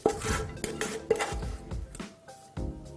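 A spoon clinks and scrapes against a pan while sautéed filling is ladled onto sea bass in puff pastry: several sharp metallic taps and rubs in an irregular rhythm, close and moderately quiet.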